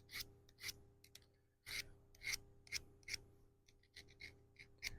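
A knife blade drawn through a Corona handheld sharpening tool, giving about a dozen crisp, close rasping strokes in an uneven rhythm against a faint steady hum.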